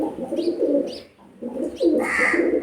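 Pigeons coo in soft, repeated low bursts, close by, with a brief pause partway through and a faint higher chirp near the end.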